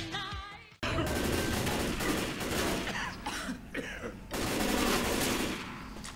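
Gunfire rattles in Left 4 Dead 2 during the No Mercy sewer level: after a brief quiet moment, loud sustained bursts of automatic weapon fire crackle almost without pause, with a couple of short lulls.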